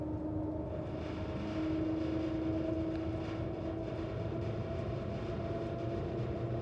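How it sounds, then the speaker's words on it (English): Inside the Shanghai maglev train as it departs Pudong Airport, a loud, continuous rumbling drone fills the cabin, with a steady tonal whine running through it and no talking. "On the only true operating MagLev in existence."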